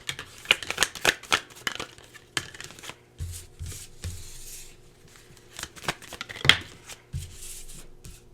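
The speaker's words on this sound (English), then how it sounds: "Just give me a minute to pull some cards for you." Tarot cards are shuffled by hand close up, giving a run of crisp riffles, slaps and flicks in irregular bursts, with quiet gaps between them and no talking.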